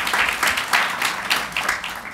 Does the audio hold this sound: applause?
yes